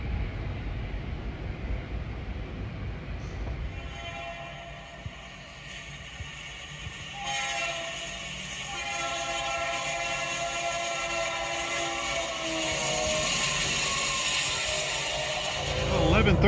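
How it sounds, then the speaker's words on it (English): A westbound CSX freight train passes with a steady low rumble of rolling railcars, then long tonal horn blasts sound from about seven seconds on, growing louder toward the end. "This is the first train I've seen. Westbound."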